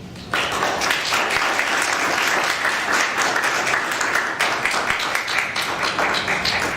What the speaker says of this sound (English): big thank you to all our presenters. Last round of applause for them